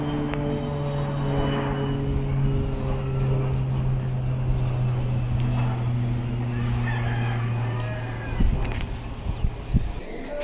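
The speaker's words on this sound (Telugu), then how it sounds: "విమానం పోతుంది" An airplane drones steadily overhead near a house under construction, a continuous engine hum that holds for several seconds and gradually fades, with a few short knocks and rustles toward the end.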